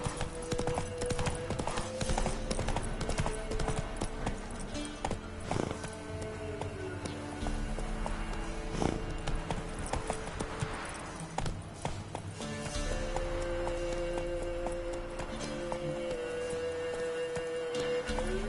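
Horse hooves clip-clop in a steady, continuous rhythm over a long stretch. The beat stays close and even beneath a dense, busy layer of other sound.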